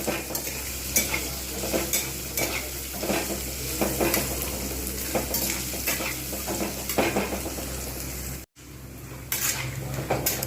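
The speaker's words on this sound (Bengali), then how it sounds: "বেশ কিছুক্ষণ সময় নিয়ে পুরো বাদামটা আমি আর ভেজে নিই" Peanuts fry in a pan and are stirred at length while a pumpkin and pointed gourd fry is prepared. A loud, steady sizzle runs under repeated metal spatula scrapes and clinks, with a brief silent cut near the end.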